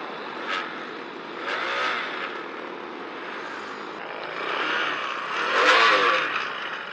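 Small 49cc Chinese stand-up scooter engine revving, a thin, buzzy whine that rises and falls in several surges, loudest near the end, with no talk over it.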